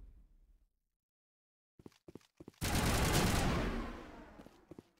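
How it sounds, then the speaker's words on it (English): Gunfire from the video game Mass Effect: a few sharp isolated shots, then a loud sustained burst of rapid automatic fire lasting about two seconds, followed by scattered single shots trailing off. "Somebody shooting at us?"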